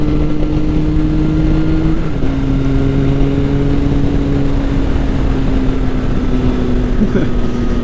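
Triumph Sport 660 motorcycle riding on a race track while the rider warms the tires, a loud steady engine drone with a shifting pitch and continuous wind rush, close and constant throughout.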